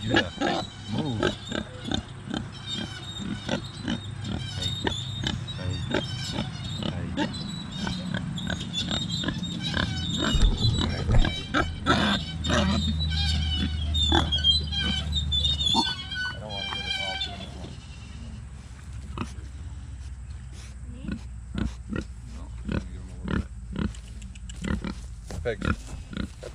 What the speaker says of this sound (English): hopefully these pigs will leave me alone